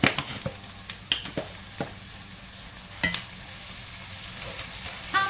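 Garlic goes into a pan of sautéing vegetables for shrimp and crab étouffée, giving a soft sizzle under a few sharp clinks and taps of stirring, fairly quiet and close with no talk.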